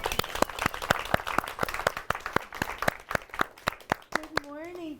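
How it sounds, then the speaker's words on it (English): Workshop audience applause: scattered, crisp hand claps from a modest crowd, fairly close and steady for several seconds, before a voice begins speaking at the end. "How about a round of applause for Leanne?"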